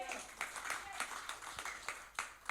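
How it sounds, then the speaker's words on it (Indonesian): A church congregation of young worshippers claps for Jesus, a steady scatter of individual claps under ongoing talk, fairly close and moderately loud. "Tepuk tangan dulu buat Tuhan Yesus"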